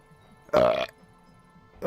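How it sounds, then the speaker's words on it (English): A single loud, drawn-out burp lasting about a third of a second, close to the mic in an otherwise quiet room, followed by the start of a voice at the very end. "Sorry, lady, I was listening, but I had to burp"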